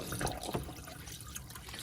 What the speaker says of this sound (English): Just going to empty that down the drain.